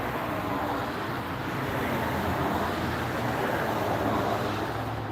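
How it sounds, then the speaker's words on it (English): Boat passing on open water near a road, heard as a steady broadband rush of engine and wake that stays fairly constant, blending with distant traffic and wind. "There goes a boat."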